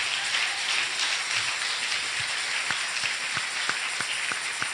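A church congregation claps hands in worship, a dense, even patter of many hands that carries on steadily, with a few sharper individual claps standing out near the end.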